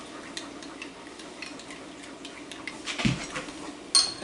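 A spoon stirs a dipping sauce for shrimp from a southern shrimp boil in a bowl, making soft scraping and light clinks at close range, with a brief louder knock near the end.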